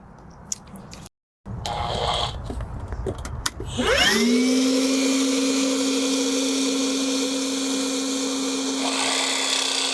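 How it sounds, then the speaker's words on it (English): After some clattering and handling noises, a vacuum cleaner starts up during fiberglass delamination repair on a sailboat and runs with a steady, loud whine that continues to the end. "let me get the vacuum"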